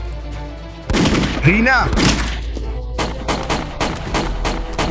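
A burst of gunfire with several sharp cracks in quick succession, loud and close, mixed with a shouted voice and other noise in a chaotic fight scene.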